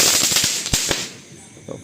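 Diwali firecrackers burst in rapid succession outdoors, sharp loud cracks and pops overlapping like gunfire, with a crowd murmur underneath.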